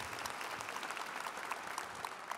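Audience applause at a church seminar on teaching the truth, a steady wash of clapping from a seated crowd, fairly distant and even throughout the short burst.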